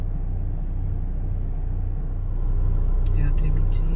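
A car rolls past close by on a road, its engine rumble holding steady and swelling slightly toward the end, with a few brief higher noises near the close.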